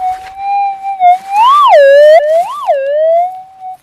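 Gold-prospecting metal detector target response through an external speaker: a loud, clear whooping tone that rises and falls in pitch, warbling several times like a siren, with no talking over it.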